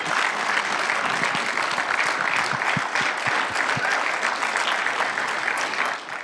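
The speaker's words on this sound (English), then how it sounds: "One more round of applause, please." An audience at Temple Sholom in Vancouver applauds after a performance with a dense, sustained round of clapping that stays loud throughout and fades slightly at the end.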